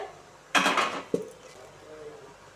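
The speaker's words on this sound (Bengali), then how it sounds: "এবার আমি ঢাকনাটা দিয়ে দেব" A metal lid settles onto a cooking pot of bottle gourd leaves with a short clattering clank, and a lighter clink follows a moment later, both close and fairly loud over quiet kitchen background.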